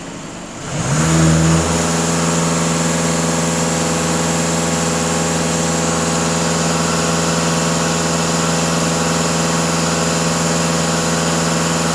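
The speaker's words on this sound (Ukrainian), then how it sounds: "Даю газ пол 2500 обертів." Engine of a VW Passat B8 rising briefly from idle and then held steady at about 2500 rpm, a loud, even, continuous drone with a constant tone for the rest of the clip, no voices.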